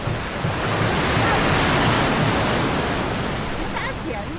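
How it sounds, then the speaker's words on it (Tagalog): Heavy ocean surf at the shore in Dingalan, Aurora, rolls as a continuous loud, broad roar with wind buffeting the microphone, and faint voices underneath. "Ang bigat ng alon."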